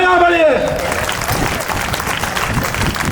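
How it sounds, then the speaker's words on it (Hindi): An audience claps and applauds loudly and steadily in a hall at a career institute gathering in Rajasthan. A voice is heard briefly at the start before the dense clapping takes over. "ताली बजाओ"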